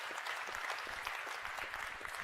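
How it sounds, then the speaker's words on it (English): Audience at a Co-op AGM breaks into a round of applause: dense, continuous clapping from many people, steady and moderately distant throughout. "Yes, I think that deserves a round of applause."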